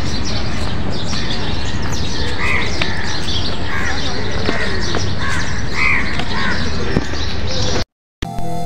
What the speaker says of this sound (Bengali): ভোরের কাক ডাকা শুরু হয়ে গেছে।